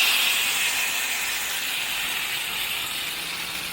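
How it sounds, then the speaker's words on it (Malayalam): Dried red chillies and curry leaves sizzle in hot oil as a tempering for mango pulissery curry, a loud, close, steady hiss that eases slightly as it goes, with no talk. "വറ്റൽമുളക്, പിന്നെ കുറച്ച് കറിവേപ്പിലയും കൂടി ഇട്ട് നമ്മുടെ മാമ്പഴ പുളിശ്ശേരിക്ക് ഈ ഒരു താളിപ്പ് ചേർത്ത് കൊടുക്കാം."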